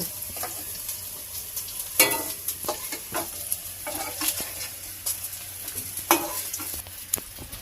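Pieces of raw banana and potato fry together in oil in a pan, a low, steady sizzle with occasional stirring scrapes and clinks, close up and without speech.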